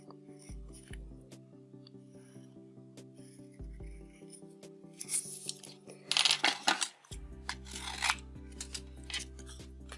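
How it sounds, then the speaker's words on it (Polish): Scissors snip through paper while a small heart is cut from the same paper as a woven basket for a Valentine's card, giving a run of crisp cuts and rasping rubs against a steady musical backing, with no talk. "Wytnę je z takiego samego papieru, z którego jest zrobiony kosz."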